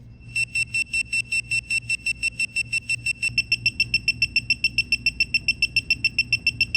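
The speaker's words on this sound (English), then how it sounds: "If the sensor detects the presence of gas, it'll alert you with LEDs and the audible beeps." A HOME-FLEX gas leak detector beeping in a rapid, steady pulse of high electronic tones, growing louder and quicker partway through, with no voices.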